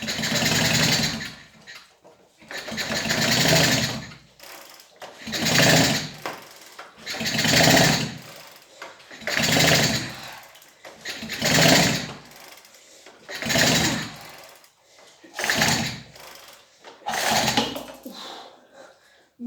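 A Peugeot 102 moped's small two-stroke engine is cranked over and over with the decompression valve open, giving about ten rhythmic chugging bursts, each lasting roughly a second, with short pauses between, close and fairly loud, and it never settles into a steady idle.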